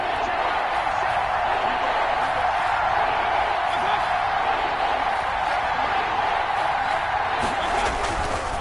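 A stadium crowd in an American football video game on PS4 roars and cheers steadily, building up ahead of a big third down. The dense, loud noise fills the whole stretch without letting up.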